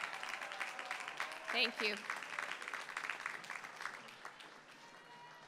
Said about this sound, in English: Please join me in congratulating first-generation students